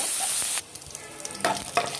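Close, bright sizzling of chopped onion, garlic and slit green chillies in oil drops suddenly to a quieter crackle, then a few spatula scrapes and stirring knocks follow, no one speaking.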